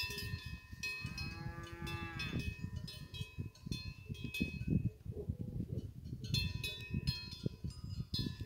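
Cows moo on a farm in Bucovina where cattle and horses are kept together, a long drawn-out lowing call followed by shuffling and barn noise.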